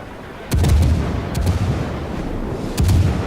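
Ship guns of the Admiral Hipper firing in World of Warships: three heavy booming salvos spaced about a second apart, each a deep rumbling blast with a sharp crack, over a low steady background.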